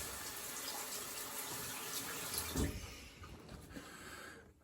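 Cold water runs from a tap as a razor is rinsed under it, a steady close rush that drops off partway through and is followed by softer splashes and trickles.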